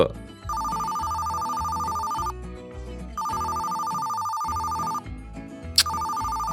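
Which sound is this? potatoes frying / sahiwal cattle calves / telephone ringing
telephone ringing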